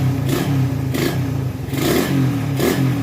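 Motorcycle engine fitted with a Keihin 28mm carburetor, revved in quick blips about four times over a steady idle, close and fairly loud.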